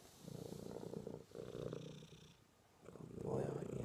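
A cat purrs softly and continuously while being cuddled on a lap, a low rumbling that rises and falls in slow breathing cycles, heard up close and faint.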